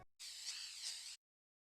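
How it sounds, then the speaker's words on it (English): Spray paint can hiss from the intro of the video game GTA San Andreas, one continuous airy burst lasting about a second, clean and isolated, starting and stopping abruptly. "that Grand Theft Auto San Andreas in, and this is the first thing you see, that nice spray paint sound"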